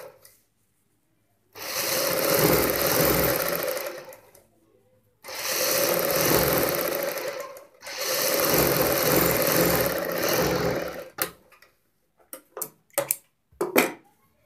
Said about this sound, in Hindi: बुकरम के साथ साथ हम यहाँ पे सिलाई लगाएंगे।